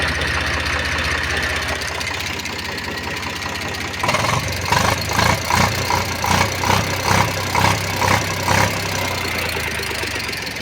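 An Eicher tractor with a Ricardo diesel engine idles loud and close. It holds a steady low rumble at first, then shifts to a rhythmic, pulsing knock of repeated throbs.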